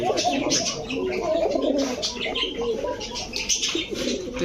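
Pigeons, including Pakistani Teddy and Saharanpuri breeds, coo repeatedly at a pigeon seller's stall, soft, close, overlapping murmurs with occasional chirps and wing flutters while people talk nearby.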